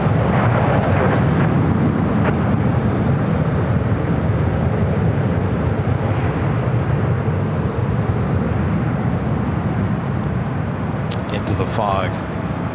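A jet airliner takes off from runway 24 right at LAX on a foggy day, its broad engine roar loud and sustained throughout, with radio tower chatter running over it and a brief high whistle near the end.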